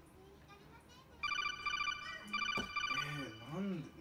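A telephone rings through a handset during a call, a repeated electronic ring in two bursts, with voices speaking faintly beneath and after it.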